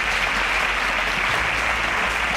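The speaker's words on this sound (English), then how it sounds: "A round of applause for Marvel." Audience applause for a contestant on a televised quiz show, dense and steady across the whole span, loud and close with no voices over it.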